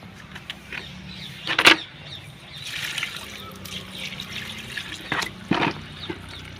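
Water sprinkled by hand over aloe vera plants on a rooftop, heard as soft trickling and dripping with a few sharper splashes, close by and fairly quiet against faint background hum.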